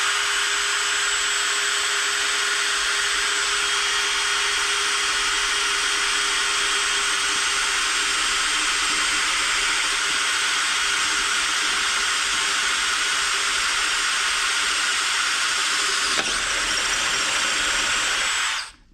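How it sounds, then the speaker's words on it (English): A loud, steady high-pitched whine of a hand-held power drill boring through a disc and into the other side runs continuously, then abruptly stops at the end. "we've gone through the disc and we're starting to cut into the other side"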